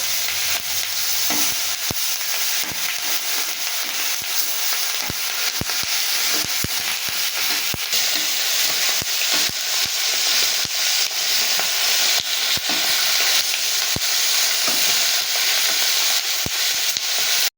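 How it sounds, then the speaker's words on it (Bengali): Fish fries in hot oil, a loud, dense and steady sizzle close by, punctuated by scattered sharp pops and clicks as the pieces are turned. "এবার আমি মাছগুলোকে উল্টে অন্য পিঠ এইভাবে ভেজে নেব।"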